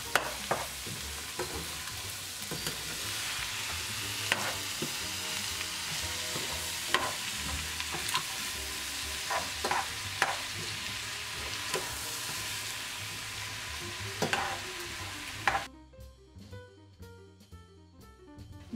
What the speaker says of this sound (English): We're mixing and we'll simmer all these ingredients together for about 5 minutes to let the flavors blend.